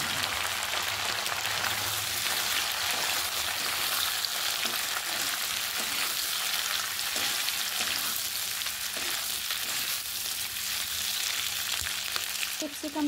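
Capsicum and onion sizzle and fry steadily in a hot pan for chili chicken, a dense, even crackle close by with faint stirring clatter and no talk.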